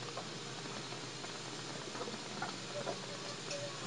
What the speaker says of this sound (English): Big old thing of butter, sizzling away